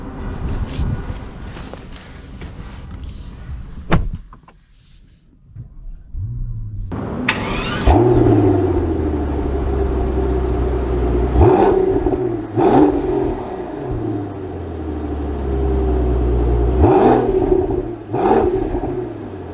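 A 2023 Mercedes-Maybach S680 sets off and drives, a low smooth engine hum rising through several gentle acceleration swells after an earlier quiet stretch with a sharp click, no speech.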